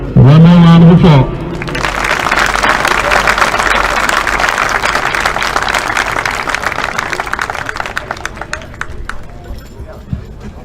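A voice calls out briefly, then a banquet audience at a high school football awards night breaks into loud, sustained applause that gradually thins out.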